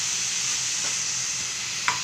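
Beetroot halwa stirred in a pan, a steady soft scraping and faint sizzle running continuously, with one brief sharper clink of the spoon near the end.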